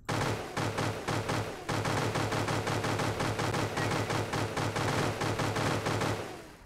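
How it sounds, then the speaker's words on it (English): Sustained rapid automatic gunfire in a horror-themed video game, a loud, dense burst of shots that runs almost without pause for several seconds and then cuts off abruptly. "keep firing until you run out of bullets"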